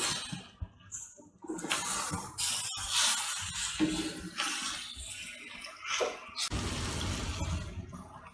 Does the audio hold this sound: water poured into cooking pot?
yes